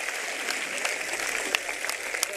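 Crowd clapping at an outdoor political rally in Bhadra, a brisk steady patter of many hands with sharper claps poking through, moderately distant and without talk.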